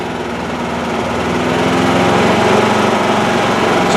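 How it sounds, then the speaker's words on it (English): Duromax dual-fuel portable generator running steadily after a fuel switch: a loud, continuous buzzing engine drone close by, rising slightly, with no voices. "The generator just makes a little noise and it keeps going."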